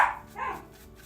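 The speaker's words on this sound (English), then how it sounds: "Puppies are playing." Puppies barking while they play, a single short bark near the start followed by a softer yip, fairly close and moderately loud in a quiet room.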